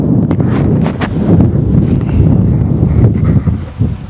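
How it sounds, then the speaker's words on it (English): Strong wind buffets a microphone outdoors, producing heavy, uneven low rumbling and flapping gusts that continue throughout at close range, loud and without any clear speech. "this wind is horrible."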